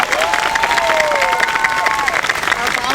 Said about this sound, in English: How about a big round of applause for facilities and staff from various offices,